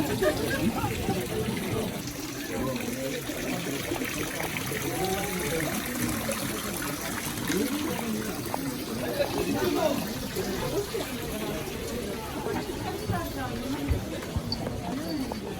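Spring water trickles and burbles steadily at the Oshino Hakkai pond in Japan, a continuous close stream running beneath people talking throughout.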